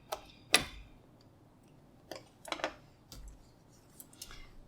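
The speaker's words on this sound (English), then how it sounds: "Snip them." Scissors snip thread on a quilt block in a few crisp, close cuts, one sharp snip followed by a cluster of quieter clicks and snips.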